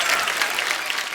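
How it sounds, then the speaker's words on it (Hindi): A comedy show's studio audience breaks into loud, dense applause welcoming celebrity guests, a steady wash of close clapping. "जोरदार ताली से स्वागत कीजिए"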